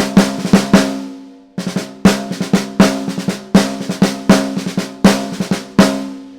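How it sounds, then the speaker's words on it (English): On a jazz drum kit, a single drag tap rudiment repeats in a brisk, steady pattern of crisp grace-note drags and accented strokes, heard close and dry after a brief pause near the start, with no speech. "would be the single drag tap, which looks and sounds like this."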